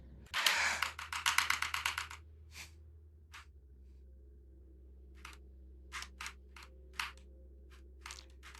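Rapid computer keyboard typing, a dense burst of clicks close up, then scattered single key presses spaced over several seconds, with no talking.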